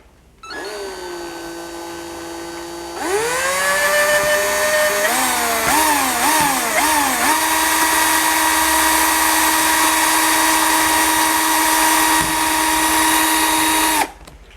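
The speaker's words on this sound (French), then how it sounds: "je essaye de percer le deuxième trou" A power drill bores a second hole in a wooden bow, whining loudly after a brief quieter start, then bogging and surging several times as the bit bites before settling into a steady high whine that stops abruptly.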